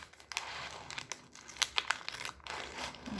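Plastic bag cut with scissors in a kitchen, a quiet series of crinkles and sharp rustling snips close by, with no talk.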